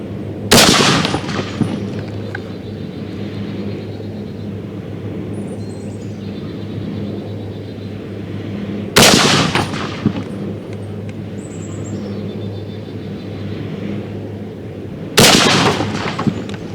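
An M1 Garand rifle fires three loud, sharp shots at a shooting range, spaced several seconds apart, each with a short ringing echo and quiet outdoor ambience between them.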